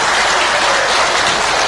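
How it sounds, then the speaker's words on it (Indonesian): Continuous applause from a debate audience for the four candidates, a dense, loud clatter of many hands sustained without pause. "sekali lagi tepuk tangan untuk mereka keempat-empatnya"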